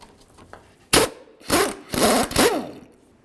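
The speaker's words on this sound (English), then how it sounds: "Now we can remove the ball joint nut. We'll use our 18mm socket." An 18mm socket on a ratchet or impact tool loosens the lower ball joint nut on a Dodge Journey, sounding as three or four loud, short bursts of whirring and rattling metal close by, with no talk.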